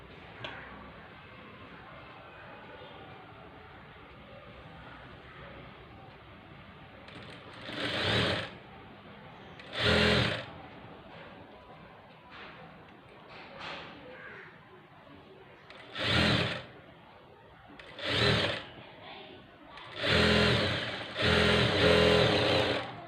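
A sewing machine stitches a fabric strip on slippery cloth in several loud bursts of rapid whirring, separated by short pauses with quieter background noise.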